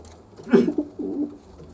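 A young pigeon in a loft gives a short, close, soft coo, a single throaty murmur lasting about a second.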